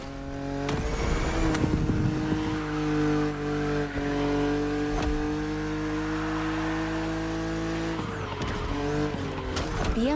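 A BMW Z roadster races in The Crew Motorfest against an aggressive opponent, its engine revving loudly through gear changes, with sharp shifts and brief tire squeals.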